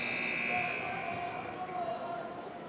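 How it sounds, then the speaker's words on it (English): A sustained electronic shot clock buzzer sounds for over a second at a girls' high school basketball game, then fades into the echoing din of the gym crowd. "That was a shot clock buzzer going off."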